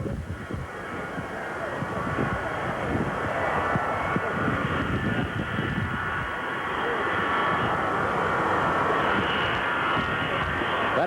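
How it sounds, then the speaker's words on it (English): A jet airliner approaches Love Field airport in Dallas, a steady loud engine roar with broad rushing noise that holds for about eleven seconds, with faint voices underneath. "It's another jet approaching now."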